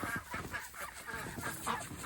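Ducks honking and quacking in a barn, a run of nasal calls overlapping one another at close range, with no people talking.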